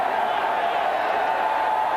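A large football stadium crowd of Aggie fans at Texas A&M roars steadily in a broad, sustained wash of cheering, heard from a distance.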